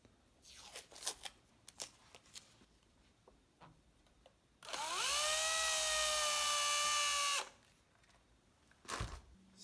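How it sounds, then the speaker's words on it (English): A slightly larger bit in a power drill chamfers a pilot hole for a strap button on an ST-style guitar kit body, a loud steady whine of about three seconds between faint handling clicks and taps. "I'm just going to chamfer that hole with a slightly larger drill bit."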